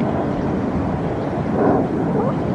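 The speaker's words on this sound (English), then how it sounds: "Hear all those planes overhead." Steady broadband roar of aircraft passing overhead on a September morning in a city under hijacking alert, continuous and rumbling with wind buffeting, swelling slightly partway through.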